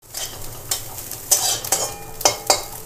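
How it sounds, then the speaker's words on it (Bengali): Chickpeas are stirred into greens in a pan over the heat, with repeated close scraping strokes over a light sizzle, at an uneven but steady pace and with no talking. "ছোলাটাকে দিয়ে দিচ্ছি এর মধ্যে, একটু নেড়ে চেড়ে নেব"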